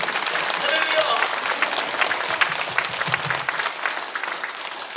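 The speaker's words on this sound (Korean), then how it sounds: "우리 주님께 영광의 박수를 드리겠습니다" A church congregation at a prayer meeting gives sustained, dense applause that rings in a large hall. Some voices call out faintly beneath the clapping.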